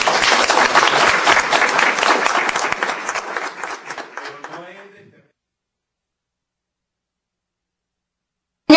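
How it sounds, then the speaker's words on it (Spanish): An audience applauds after a presentation at a conference on binational water management, loud dense clapping for about four seconds that thins out and fades into silence. "le damos un fuerte aplauso."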